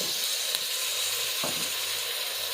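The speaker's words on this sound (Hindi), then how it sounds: "अब मैं इसमें मटन डालूँगी।" Mutton sizzling loudly in hot oil with onions, a dense continuous crackle with a brief stirring scrape midway.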